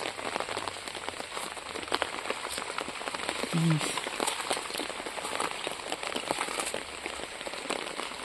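Steady rain falls on a garden of millet and ornamental grasses, a dense even patter of drops on leaves and surfaces that continues throughout without pause.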